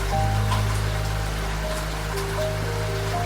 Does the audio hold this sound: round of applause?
no